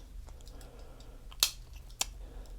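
The small scissors of a Wusthof Solingen Swiss Army style pocketknife with Buffalo Horn scales being opened, two sharp metallic clicks close up against a quiet room hum.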